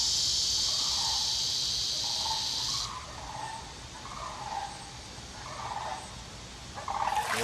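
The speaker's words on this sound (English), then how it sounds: "Can you hear the sandhill cranes?" Sandhill cranes call faintly from a distance in a series of short, rolling bursts spread over several seconds, while a constant high insect-like buzz fills the background at first and then drops away.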